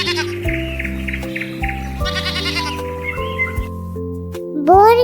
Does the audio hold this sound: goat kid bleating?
yes